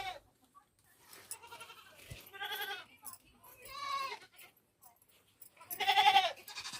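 About five or six goats at a rural Nepali village home bleat in a series of wavering calls, some overlapping, moderately faint against quiet farmyard background.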